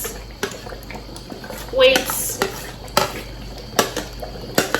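Spoon clinks and scrapes against a pot as crayfish and ogiri obe are stirred into banga (palm nut) stew, a few sharp metallic knocks over a low background hiss, with a voice talking now and then.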